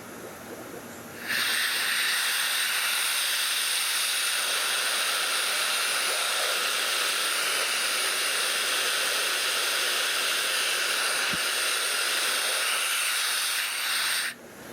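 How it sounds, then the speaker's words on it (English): Compressed air rushes out of a bleed valve fitted with a muffler on a fish-room air system, a loud continuous hiss that starts abruptly, holds steady for about thirteen seconds, then cuts off. "The muffler is necessary because the air rushing out of the system can be quite loud."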